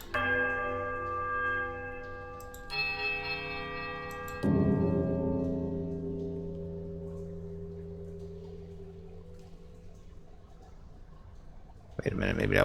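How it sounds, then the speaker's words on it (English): A deep bell in a ruined place in the Pillars of Eternity game rings out in sustained tones, then strikes a heavier peal that hums and slowly fades for several seconds before another sound cuts in. "Deep resonating peal echoes through the ruins."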